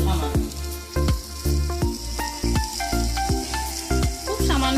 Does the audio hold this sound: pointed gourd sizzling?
yes